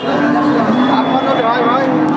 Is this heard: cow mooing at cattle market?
yes